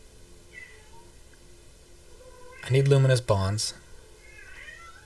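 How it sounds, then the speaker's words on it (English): A hungry cat meows loudly twice in quick succession somewhere in the room behind a person speaking at a computer game, the cries standing out clearly above the quiet talk. "That's a cat back there crying about"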